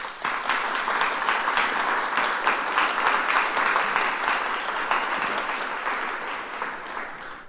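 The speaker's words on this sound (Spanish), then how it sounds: "Yo pido un aplauso para él." An audience at the opening of an exhibition about Monsignor Emilio Lissón applauds steadily, a dense, sustained clapping from a roomful of people that holds evenly and then slowly fades.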